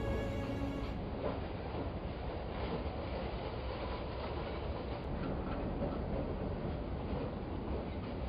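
A train runs steadily through the night, its rolling rumble and faint rhythmic rail clatter filling the whole stretch continuously with no voices over it.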